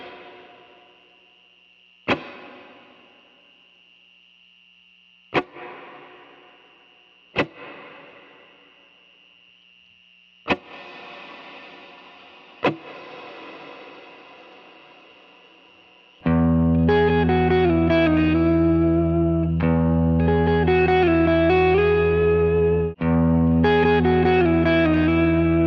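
Guitar fed through a Strymon BigSky reverb pedal: several sharp plucked notes with long shimmering decays and gaps between, then a dense, loud sustained wash of chords and swelling tones that keeps going to the end.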